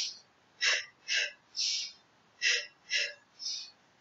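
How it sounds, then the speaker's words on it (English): Sharp, breathy exhalations during a Pilates workout, six forceful puffs of air in an irregular rhythm, close and clear against a quiet background. "Breathe out."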